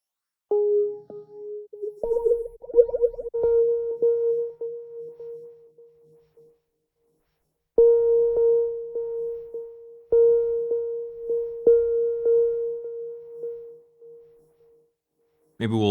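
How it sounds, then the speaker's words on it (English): Inexpensive synthesizer played with a chorus modulation effect, sustained tones with shimmering wobble, phrases broken by pauses of silence, close and clear with no talking. "Let's go for a chorus or some kind of mod effect."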